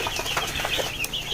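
Broiler chicks scattered in a hot brooding room, a dense flock of high cheeping peeps overlapping with light fluttering and shuffling, close and moderately loud.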